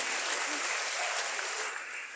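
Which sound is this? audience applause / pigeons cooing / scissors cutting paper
audience applause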